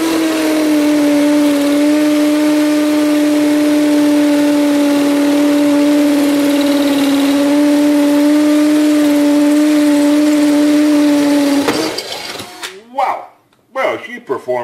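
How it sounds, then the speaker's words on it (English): A Kimo 20V cordless hammer drill bores into a roughly 2.5-inch cement brick, its motor holding a loud steady whine for about twelve seconds before stopping, followed by handling clatter and a voice. "You can hear the motor sounds different when it's doing the hammering functionality."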